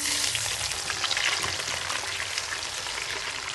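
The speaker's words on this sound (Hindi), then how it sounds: "ये देखिए प्याज जो है ब्राउन हो चुका है" Onions frying in a pan until brown for chicken shorba, a dense steady sizzle with crackling pops, close and fairly quiet, no talking.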